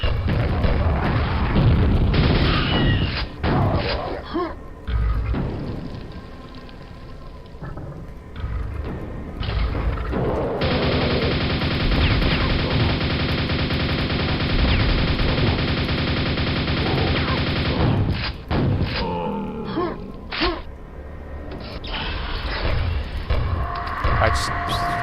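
Grenade blasts and weapon fire from the shooter Quake, booming thuds with dense gunfire in a busy stretch of combat, loud throughout, with a long sustained roar in the middle.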